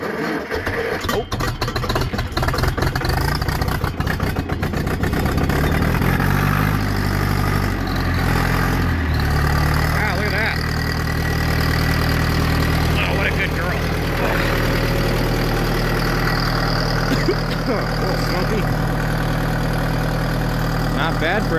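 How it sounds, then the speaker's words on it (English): A Ford Escort engine idles after a cold winter start, a steady mid-pitched running drone with occasional revs and rattles, close by, while people talk over it. "Give it a little bit more gas."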